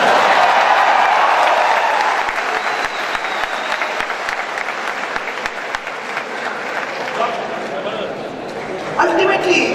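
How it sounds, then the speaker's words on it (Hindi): Audience at a brand event with a celebrity guest applauding loudly, sustained dense clapping that gradually thins out, while voices carry over the crowd. "ठोको ताली ठोको।"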